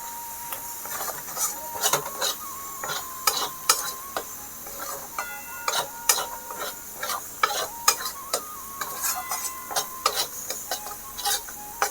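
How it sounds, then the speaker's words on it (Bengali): Spices being stirred and sautéed in a pan while cooking pointed gourd, with steady sizzling under repeated scraping strokes of a utensil against the pan in an uneven rhythm, close and clear, with no talking. "সবগুলো মশলা ভালো করে কষাতে থাকবো।"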